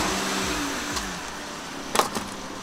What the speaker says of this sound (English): So of course, let's run over it with the van.